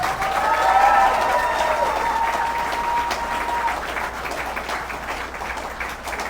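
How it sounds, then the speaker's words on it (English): A large audience applauds at the opening ceremony of an oil and gas training center in Port Morant, Guyana. The dense clapping is loud throughout and fades slightly toward the end, with faint crowd voices underneath. "I want to hear a big round of applause."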